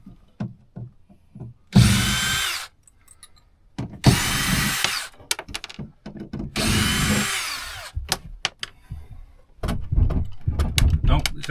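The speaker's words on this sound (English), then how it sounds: "normal screw drill" A normal power screw drill drives screws while a tour bus is stripped down, three sustained whirring bursts followed by shorter ratchety runs, close and loud, with clicks and handling noises between.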